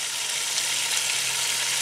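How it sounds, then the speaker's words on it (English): Roast vegetables frying in oil in the base of a camp oven, a steady bright hiss of sizzling fat, continuous and close. "On the base, frying in the oil, as you do with most roast veggies"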